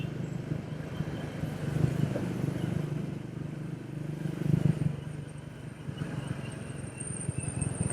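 A Triumph Speed 400 motorcycle rides through city streets, its engine a continuous close, loud drone that swells and eases with speed, mixed with road and traffic noise.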